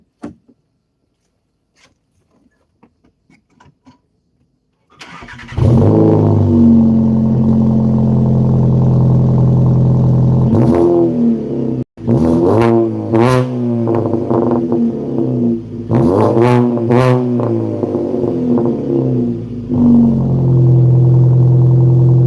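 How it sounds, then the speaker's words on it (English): Volkswagen Jetta engine cranks and catches after a quiet start, then settles into a loud, close rumbling idle broken by several sharp revs, with a brief cut partway through. "let's go ahead and start up the car. Show you guys how it sounds."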